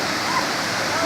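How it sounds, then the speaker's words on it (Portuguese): Waterfall at Penedo, Itatiaia, a loud, close, unbroken roar of rushing water that runs evenly throughout. "Mais uma cachoeira aí, desvendada pela lenda"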